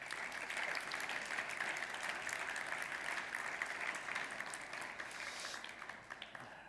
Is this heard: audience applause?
yes